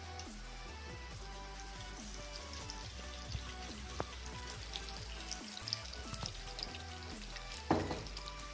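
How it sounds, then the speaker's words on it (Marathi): Makhana (fox nuts) roasting in a pan with ghee for dry fruit ladoos, giving a soft steady sizzle with scattered light clicks and rattles as the nuts shift, quiet and close, with no talking. "मखाना भाजून घ्यायचे. बरे ड्राय रोस्ट करून घ्यायचे."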